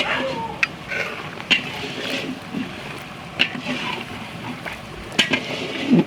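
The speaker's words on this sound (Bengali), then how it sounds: "এবার একটুখানি নেড়ে দেবো।" Chicken curry stirred in a metal pot over a village cooking fire, with sharp clinks of a spoon against the pot and wet, sizzling scraping sounds in a steady irregular rhythm.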